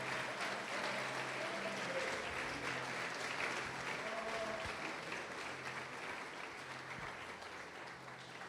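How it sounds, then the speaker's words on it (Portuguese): A church congregation claps in praise during a sermon, a thick, sustained wash of many hands, steady and somewhat distant, with faint voices and a low tone beneath it. "Pode aplaudir, glorificar o Senhor Jesus por isso"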